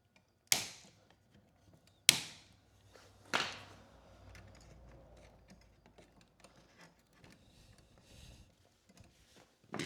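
Cutters snipping electrical wires while an outlet is replaced, giving three sharp, close clicks spaced over a few seconds, followed by quiet fiddling and faint handling noise.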